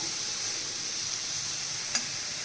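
Butter and broccoli soup ingredients sizzle in a pan, a steady soft frying hiss that runs unbroken, with one small clink near the end.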